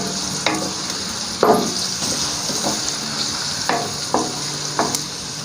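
Onions and tomatoes for sultani dal fry in a pan with a continuous sizzle, while a spoon stirs them in several distinct scraping knocks spread unevenly across the stretch.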